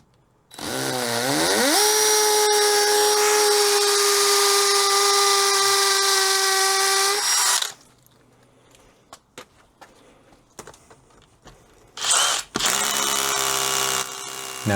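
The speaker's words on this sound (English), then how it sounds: "Now using my DeWalt SDS with an 8mm drill bit for the correct size to fit the bracket." A DeWalt SDS drill with an 8mm bit bores holes for a hose reel bracket, giving a loud, sustained whine that spins up, then stops. Faint clicks and handling noises follow before a second short burst of drilling.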